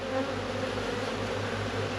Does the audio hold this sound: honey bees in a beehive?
yes